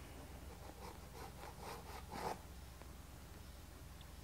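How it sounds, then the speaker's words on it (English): A little finger scratches across watercolor paper while a snow scene is painted, making a run of soft, quick rubbing strokes close by, then the quiet room returns. "That scratching you hear is"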